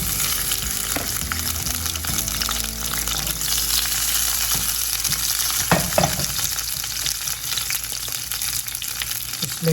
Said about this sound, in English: So in this other pan, we'll start searing our tomatoes.